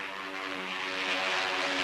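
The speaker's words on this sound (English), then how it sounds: "diving fighters like this" A World War II fighter plane dives with a droning propeller engine whose pitch slides and swells, loud and sustained for a moment, with no voices.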